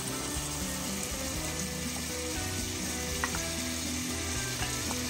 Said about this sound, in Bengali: ভালো করে মশলা কষানো হয়ে গেছে এখন এখানে চিংড়ি মাছগুলো দিচ্ছে